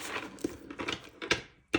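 Tarot cards are shuffled by hand in a few quick, soft papery riffles and slaps, close up and fairly quiet, with short pauses between bursts.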